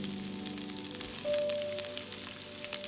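Onions frying in vegetable oil with cloves, cardamom and cinnamon over a low flame give a steady, close sizzle with soft crackles throughout.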